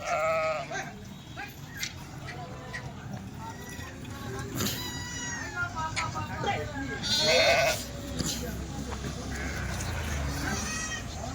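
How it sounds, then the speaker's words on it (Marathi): Kathiawari sheep from Junagadh bleat repeatedly, several overlapping calls near and far rising above a busy background of milling livestock. "जुनागडच्या मेंढ्या"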